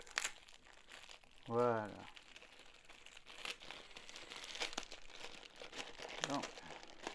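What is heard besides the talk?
removing packing tape from parcel of silver coins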